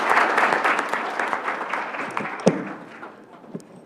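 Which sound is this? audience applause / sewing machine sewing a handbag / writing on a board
audience applause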